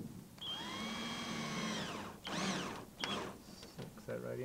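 A power drill drives screws into pre-drilled holes at the joint of plastic greenhouse wall panels, giving a whirring motor burst followed by short revving spurts, fairly faint and nearby.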